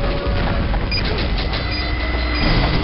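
A train rumbles past on the Thunder Mountain map of Team Fortress 2, a loud, steady, continuous roar that fills the whole moment without letting up.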